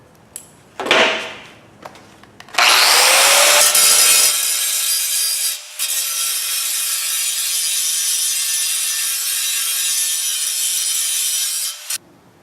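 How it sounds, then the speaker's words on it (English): A grinder bears down on metal while bodywork is done on a 1929 coupe build, starting with a few rough scrapes, then a loud, sustained whine with a steady high tone lasting about nine seconds before cutting off. "Then I use a couple ways to grind it down. Grinder here, but you got to watch this because it builds up a lot of heat."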